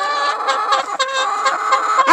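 Several chickens cluck and squawk close by, overlapping bursts of nasal clucking in a busy, continuous chorus.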